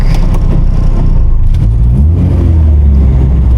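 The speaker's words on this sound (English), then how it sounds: "right, so this is morning traffic" Interior drone of a Honda driving in morning traffic, a loud steady low engine and road rumble with a slight rise in revs partway through, no voices.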